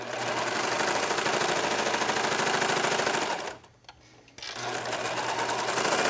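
A serger sewing tank top fabric panels together runs in a loud, fast, continuous mechanical chatter, cuts out briefly for about a second, then starts up again close by.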